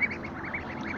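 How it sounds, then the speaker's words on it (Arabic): Hungry mule ducks peeping and calling continuously at close range, a rapid cluster of repeated high peeps over a low background murmur. "البط عمال يصوصو وفاتح بقه"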